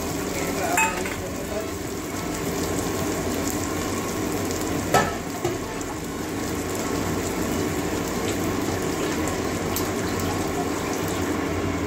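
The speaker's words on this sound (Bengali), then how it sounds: "পেঁয়াজটা একটু ভালো করে ভেজে নেবো লাল লাল করে।" Onions frying in a pan until reddish make a loud, continuous sizzle with occasional stirring knocks, steady throughout with no speech.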